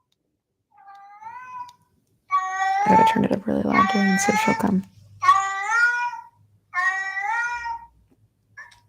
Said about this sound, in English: I'm just playing cat sounds.